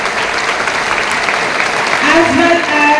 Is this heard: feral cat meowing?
no